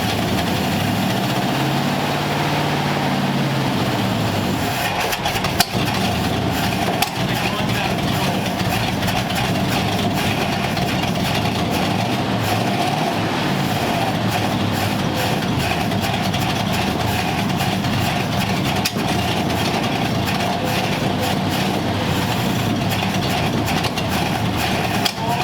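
A rough-running engine idles unevenly with a constant low rumble, sputtering and occasionally popping as it backfires out of the carburetors, loud and continuous throughout.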